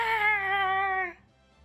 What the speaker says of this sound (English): hear the cat go, yeah!